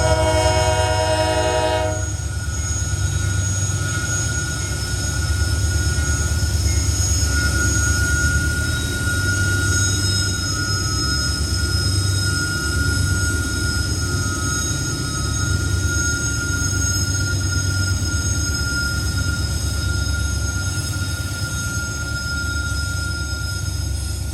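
GE freight locomotives haul a loaded trash train up a 6% grade at Horseshoe Curve in the rain, producing a loud, continuous low engine roar with high wheel squeal and a short horn-like tone at the start.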